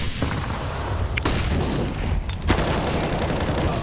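Grenades land and burst around a bombsite lane in a Counter-Strike: Global Offensive match on the Inferno map: a dense stretch of booming, crackling blasts with sharp transients near 1.2 and 2.5 seconds, and no clear talk.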